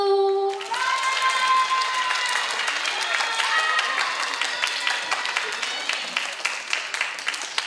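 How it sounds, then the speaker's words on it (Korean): An audience at the closing ceremony of a children's theater festival applauds steadily as an association president is called to the stage, with a brief musical tone at the start and dense, sustained clapping. "박수!"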